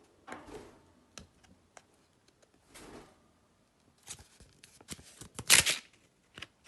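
Crinkly clear plastic packet rustles and crackles in scattered bursts as it is opened, close by, growing busier and louder toward the end with no talking.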